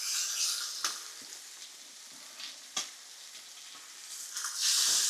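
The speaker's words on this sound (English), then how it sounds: "Lovely bit of sizzle there." Piri piri chicken pieces fry in a hot pan with a steady close sizzle and hiss, broken by sharp crackles and pops as the meat shifts, swelling louder toward the end.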